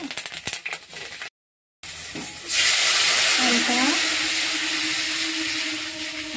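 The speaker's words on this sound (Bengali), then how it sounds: "ঝোলটা ফুটে উঠেছে" Fish curry gravy with green chili, turmeric and salt comes to a boil, giving a loud, steady close hiss and bubbling sizzle after brief talk and a moment of silence.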